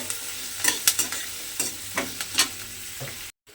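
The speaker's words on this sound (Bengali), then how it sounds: "এবার এই রসুন আর পেঁয়াজটাকে কিন্তু ভালোভাবে ভেজে নিতে হবে।" Chopped garlic and onion fry in a pan with a steady, close sizzle, broken by sharp scraping clicks from stirring spaced through the clip and ending in a sudden brief silence.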